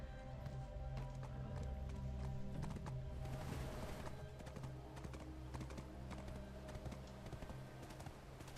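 A horse gallops in the online game Black Desert Online, its hooves clip-clopping in a quick, steady rhythm that runs throughout without pause.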